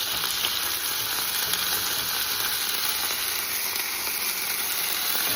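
Sauce hitting a hot pan and being stirred, giving a continuous close sizzle and hiss that holds steady throughout with no voices.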